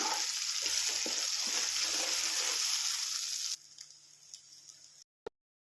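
Ground masala frying in hot oil gives a steady, fairly loud sizzle with a few stirring knocks. It stops abruptly partway through, leaving faint clinks and then a single sharp tap.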